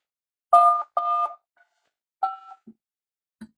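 Telephone keypad DTMF tones as digits are entered for a callback number: a handful of clear, loud beeps of uneven length separated by short silences, followed by two brief lower blips.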